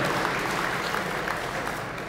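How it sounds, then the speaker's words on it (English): An audience at an annual gala applauds. Steady clapping fills the room and continues evenly for about two seconds. "Another round of applause."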